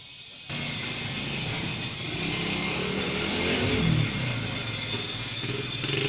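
A motor at an LPG gas shop runs to build pressure, a steady loud engine-like rumble with a slight swell and rough clatter near the middle, continuous throughout with no talk.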